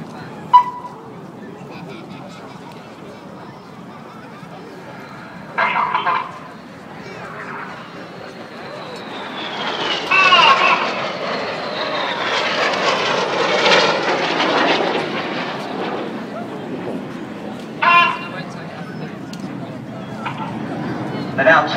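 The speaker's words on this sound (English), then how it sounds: "They're closing at over 800 miles an hour, just descending to 100 feet above the runway. This is the Synchro pass." Red Arrows jets make the low Synchro pass at 100 feet above the runway at Farnborough International Airshow, a jet roar that swells from distant to a loud, rushing close pass and then fades, with a commentator talking throughout.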